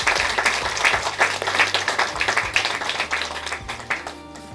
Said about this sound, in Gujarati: તો સિવિલના તમામ સ્ટાફ માટે પણ જોરદાર તાળીઓ થઈ જાય